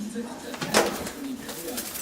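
A bird being chased out of a tree gives short cooing calls, faint against the background, with a brief louder burst in the middle as people move around nearby.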